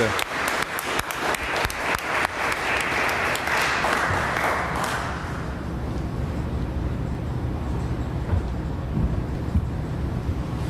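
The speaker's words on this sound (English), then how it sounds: "let's welcome Julie with a big round of applause" A parish audience breaks into applause to welcome a speaker named Julie, with crisp, close clapping for about five seconds that fades into a low rumble of room and wind-like background noise.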